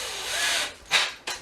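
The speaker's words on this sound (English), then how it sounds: "I am going to pre-pilot this at the same time so I don't have splitting in my door jamb" A power drill with a small pilot bit bores a pilot hole into a wooden door jamb while a bookshelf door is installed, a close whirring drone followed by two short, sharp bursts.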